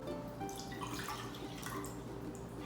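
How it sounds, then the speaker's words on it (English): Almond milk poured into a bowl, a steady soft liquid trickle and splash continuing close by throughout, with no talking. "So in a bowl, I'm gonna be adding some almond milk"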